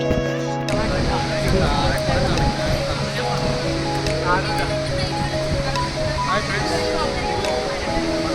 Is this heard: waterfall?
yes